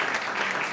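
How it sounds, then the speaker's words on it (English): A church congregation applauding during a Sunday service, a steady dense patter of many hands filling the whole brief moment at moderate volume. "You can clap out of thankfulness to God."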